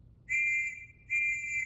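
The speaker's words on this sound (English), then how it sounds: "we'll blow a whistle first to warn you so that you have time to take cover" Two sustained, shrill warning whistle blasts from World War I trenches, each lasting about a second, with a short gap between them over a low background rumble.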